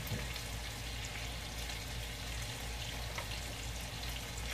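Kielbasa and onion sizzling in a pot, a steady, close frying hiss with faint crackle running without pause and no one talking.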